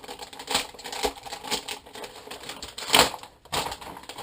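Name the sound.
ripping open a plastic parts bag from an RC kit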